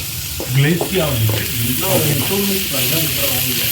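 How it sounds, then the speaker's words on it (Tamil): Onions sizzle and crackle as they fry in a pan in a bachelor-room kitchen, a steady loud hiss with stirring, while voices talk over it throughout. "இப்போ இஞ்சி பூண்டு பேஸ்ட்டு எப்போ போடணும்? நல்லா வெங்காயம் வதங்க."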